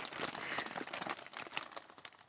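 A plastic bag wrapped around a yarn gift crinkles and crackles close up in quick, irregular bursts of handling noise, with no talk.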